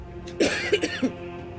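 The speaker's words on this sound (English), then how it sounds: "Real cough." A few short, harsh coughs in quick succession, close and fairly loud, followed by quiet.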